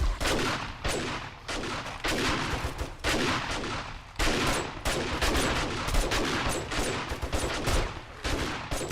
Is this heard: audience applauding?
no